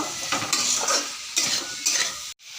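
Spoon scraping and stirring a potato, eggplant and chandana dried fish curry in a pan, with several distinct sweeping strokes in a steady rhythm, close and fairly loud, ending in a brief silence.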